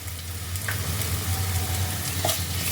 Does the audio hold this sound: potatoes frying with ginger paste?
yes